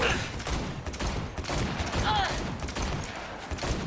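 Rapid gunfire in the video game Cyberpunk 2077, a dense continuous burst of shots with game effects layered over it, loud and close throughout.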